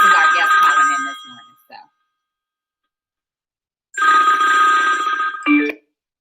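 A phone rings loudly in two long electronic trills separated by a few seconds of silence, with a brief chirp at the end of each.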